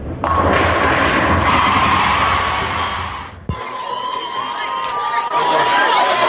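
A crowd cheers loudly at a Walkersville versus Middletown high school football game, a roaring burst of shouting voices that cuts off sharply midway, followed by a quieter, lingering crowd murmur.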